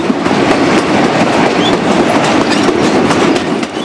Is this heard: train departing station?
yes